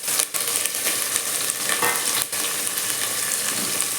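Tomatoes fry in a pan in a village-style kitchen, giving a dense, even sizzle with a couple of faint stirring scrapes; the sound is steady and fairly close.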